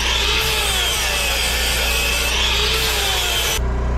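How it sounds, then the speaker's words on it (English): Metal being ground down ahead of welding on a homemade wood handler: a loud, continuous abrasive grinding rasp, close up and unbroken for most of the stretch before it cuts off near the end, with no voices. "We'll just grind this down a little bit, and we should be good to weld."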